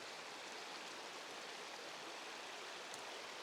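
A river flows steadily as broadband rushing water, continuous and even, moderately quiet, with no talking.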